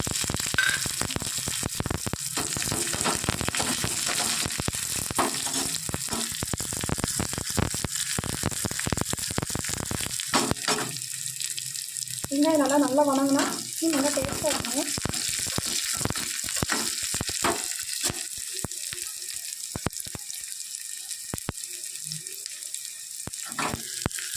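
Onions frying in hot oil with mustard seeds and curry leaves give a steady, close sizzle throughout, with faint stirring and scraping now and then and a brief voice partway through.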